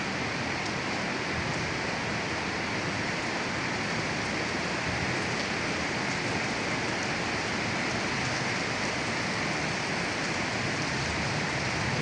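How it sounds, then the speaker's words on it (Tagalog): Heavy rain pouring steadily at night in Manila, a dense unbroken roar of water on surfaces that stays loud and even throughout with no other sounds standing out. "Lakas-palakas na naman ang ulan"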